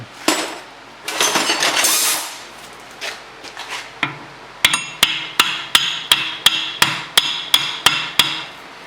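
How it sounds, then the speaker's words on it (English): Hammer pounding a rear axle shaft into the hub bearing on a 2011 Cadillac CTS, starting with a few scraping metallic knocks, then a steady series of about a dozen sharp, ringing blows at an even rhythm. "what you want to do is you want to pound your axle in a little bit"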